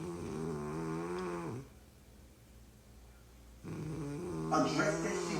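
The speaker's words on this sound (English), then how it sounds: "That ain't me snoring. That's my wife snoring." A sleeping woman snores in two drawn-out, droning breaths, separated by a short quiet gap, fairly close and moderately loud, with no other sound over it.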